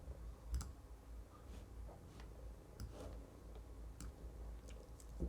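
A cat stepping across a computer keyboard, producing soft irregular key clicks spaced a second or so apart over a quiet low background hum.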